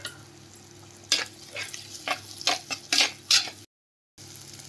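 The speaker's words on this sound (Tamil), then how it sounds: "வெங்காயம் கருவேப்பிலை போட்டு நன்கு வதக்க வேண்டும்." Onion and curry leaves being sautéed in sesame oil in a pan for a chicken gravy, with a soft sizzle under repeated sharp scraping and stirring strokes of a spoon against the pan, then a brief silence.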